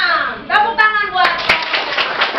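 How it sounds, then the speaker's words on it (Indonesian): Schoolchildren in a classroom burst into applause, a ragged patter of many small hands clapping, with young voices calling out over the start before the claps take over. "Tepuk tangan buat."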